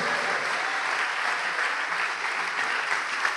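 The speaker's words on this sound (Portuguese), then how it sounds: "Vamos aplaudir ao nome de Jesus." An evangelical congregation applauds the name of Jesus, a full, dense roar of clapping from many hands sustained evenly from start to finish.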